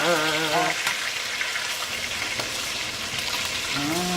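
Sweet Italian sausages frying in a pan, a steady close crackling sizzle with scattered pops that runs throughout, briefly overlaid by a voice at the start and end.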